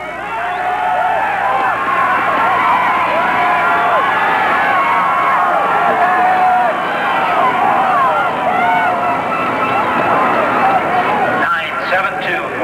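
A dense hometown crowd roars and cheers without a break through a 500-metre race at the 1988 World Sprint Speedskating Championships, a steady, loud wall of massed voices that swells briefly near the end.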